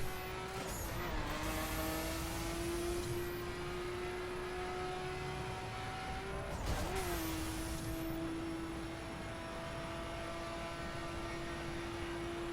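Mini Cooper engine revving hard in The Crew racing game, a steady loud whine climbing in pitch with brief dips at gear changes, sustained and close throughout.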